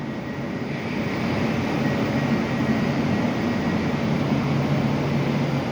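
A steady, loud rumbling drone of a train rolling into Kraków Główny station, with a faint high whine over the low roar and no voices.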